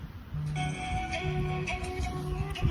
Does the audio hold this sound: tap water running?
no